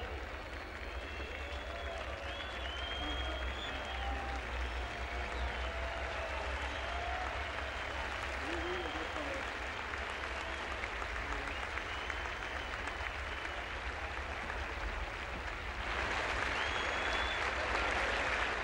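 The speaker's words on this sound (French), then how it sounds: "Cependant qu'une partie du public siffle, l'autre applaudit." A large outdoor tennis crowd at the 1969 Roland Garros men's singles final applauds steadily and loudly for a long stretch, with a few whistles cutting through and the clapping swelling near the end.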